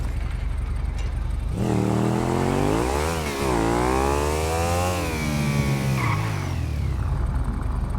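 A motorcycle engine in GTA 5 starts up and revs, its pitch rising and falling through several throttle bursts, loud and close before settling to a lower drone.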